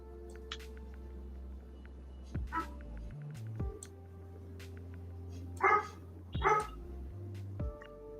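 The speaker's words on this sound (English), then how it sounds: "That's my dog barking." A dog barks from inside a kitchen at a household gathering: a few separate sharp barks spaced apart over background room noise, moderately near, with no talk over them.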